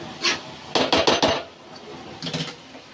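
A spoon scrapes and knocks against a metal pot while daal mash is roasted, coming in a few quick clattering bursts with short pauses between them, close and fairly loud, with no talking.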